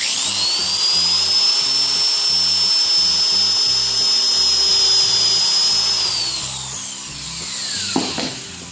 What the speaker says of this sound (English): Pre-drilling as before.